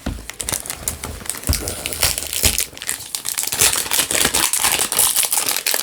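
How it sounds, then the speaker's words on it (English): Plastic cellophane being torn and crumpled off an Éclat d'Arpège Sheer perfume box, loud close crinkling and crackling in dense bursts throughout. "I know some people don't like the sound of the opening with the plastic cellophane"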